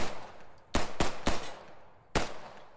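Four sharp shots from a German Wehrmacht pistol in the Post Scriptum video game, three fired in quick succession and a fourth after a short pause, loud and close over a quiet ambient background.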